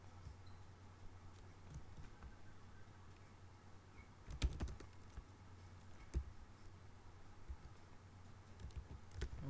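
Soft keystrokes on a computer keyboard as a pytest command is entered in a software development setup, a few quiet taps and clicks over a low steady hum, with a couple of sharper presses near the middle.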